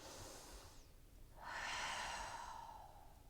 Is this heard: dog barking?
no